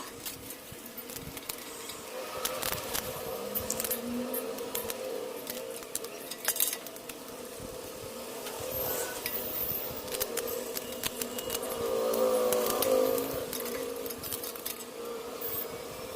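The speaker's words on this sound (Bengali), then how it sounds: "প্রথমে গলদা চিংড়িগুলো আমি ভালো করে কেটে নেব। কেটে আগে ধুয়ে নেব, নিয়ে তারপরে কেটে নেব।" Giant freshwater prawns are cut with scissors and cleaned for a prawn biryani, with intermittent snips, clicks and small clatters of utensils and dishes against a faint background.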